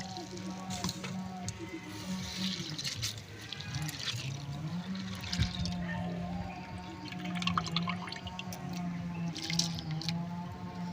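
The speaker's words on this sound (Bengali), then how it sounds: "ডালটা আমি একটু ধুয়ে নেব।" Lentils are rinsed in water in a home kitchen, giving soft sloshing, trickling and dripping sounds, fairly faint over a low background hum.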